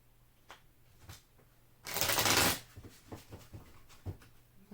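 Tarot cards being shuffled close by, a loud riffling burst of about a second amid softer taps and handling clicks, with no talking.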